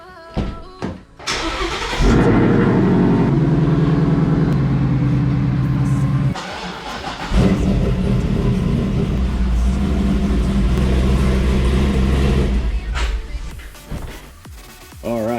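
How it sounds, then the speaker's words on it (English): A Mustang and a Corvette are started and driven in a garage during maintenance, engines turning over then running loud and steady at close range, with a brief gap between the two cars. "Let's get the Mustang out of here, pull the Corvette in."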